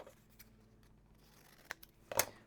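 A few quiet snips of scissors cutting paper, isolated and near, with one louder cut toward the end.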